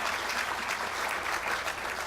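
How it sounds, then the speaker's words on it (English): An audience at a city State of the City event claps for a former mayor being introduced. The applause is dense and sustained, fairly close and steady for a couple of seconds, with no speech over it. "you guys can clap these individually along the way"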